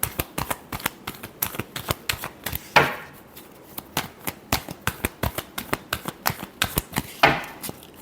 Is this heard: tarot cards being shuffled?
yes